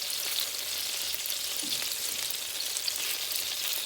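Meatballs fry in a non-stick pot as they are flipped over, making a dense, even hiss of sizzling oil with a faint scrape partway through and no talking.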